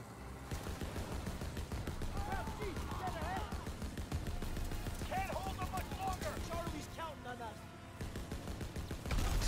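A mounted gun fires in Call of Duty WW2, rapid bursts of shots repeating over a chaotic battlefield, with shouting voices and yells layered throughout.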